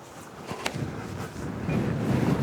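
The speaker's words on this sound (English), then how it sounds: "Oh, the wind just picked up." Outdoor wind on a disc golf course gusts and buffets the microphone with a low rumbling roar that swells louder toward the end, along with a faint brief tick.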